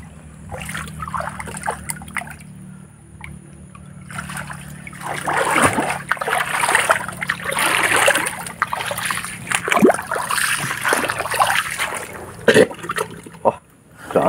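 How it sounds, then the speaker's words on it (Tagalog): Water sloshes and splashes in a bucket in uneven bursts, with trickling and dribbling between the louder splashes throughout. "Nalagyan ko ng tubig yung balde para hindi mainitan yung tiyo."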